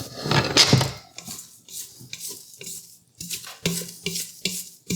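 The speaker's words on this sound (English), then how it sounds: "I do think I need to scrape it down." Spatula scraping down the bowl of a Vevor stand mixer holding sugar cookie dough, a run of close scrapes and soft knocks in uneven strokes, loud at first, then a series of short sweeps.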